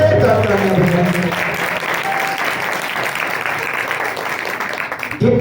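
A crowd applauds loudly at a church sermon, a dense wash of clapping that stays strong for several seconds, with a voice briefly audible at the start.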